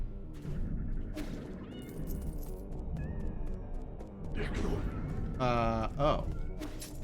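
Cat meows in the action game Nine Sols rise over rumbling game sounds and scattered sharp impacts, a cluster of short mews followed by a louder drawn-out meow near the end.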